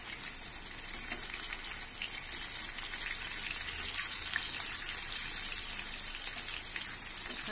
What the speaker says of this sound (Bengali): এটা হচ্ছে পনিরটা আমি হালকা কুচি কুচি করে কেটে নিয়ে এটা হচ্ছে ভেজে নিচ্ছি